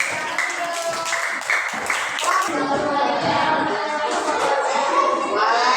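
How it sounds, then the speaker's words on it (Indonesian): Schoolchildren in an Indonesian classroom clapping for a student group, a brisk burst of many hands applauding together, loud and close, with young voices chattering through and over it. "Tepuk tangan untuk kelompok 6."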